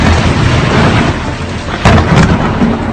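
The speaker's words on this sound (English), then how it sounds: "the storm created a spectacular light show" Loud thunder from an intense overnight thunderstorm over the United States, with a constant heavy rumble broken by two sharp cracking booms close together near the end.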